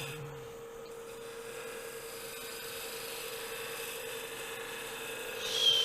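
Woodturning gouge shaping the outside curve of a wooden Christmas ornament on a lathe, a steady close rasping hiss over a continuous motor hum, rising slightly at the end.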